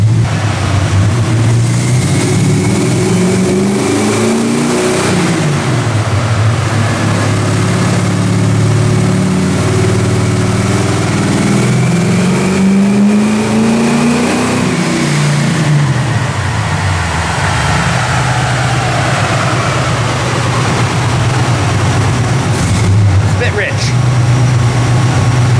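An AMC 304 V8 fitted with headers roars through a dyno pull in a 1979 AMC AMX, its loud engine climbing and falling in pitch across the revs and holding steady without pause.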